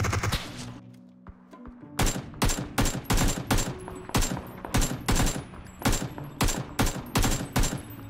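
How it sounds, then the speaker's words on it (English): Rapid bursts of automatic gunfire from the battle-royale video game PUBG ring out after a quiet start, about a dozen sharp shots in an irregular stutter, loud and close, with no talking over them. "Oh, I'm freaking getting shot too."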